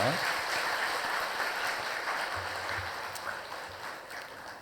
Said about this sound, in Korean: 크게 한번 박수해 주시겠네요